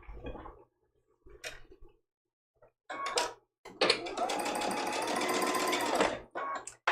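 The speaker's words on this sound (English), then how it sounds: "we're going to bring this over to the sewing machine" A sewing machine stitches a long fabric strip for a trivet hanger, with short start-and-stop bursts giving way to a steady, close, continuous whir lasting a couple of seconds before stopping; no talking.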